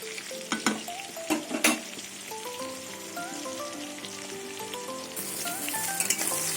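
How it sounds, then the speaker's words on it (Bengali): Pointed gourd (potol) pieces fry in oil with a steady sizzle, opening with a few clattering knocks of stirring, while gentle melodic music plays in the background. "পটল ভাজা হয়ে গেছে"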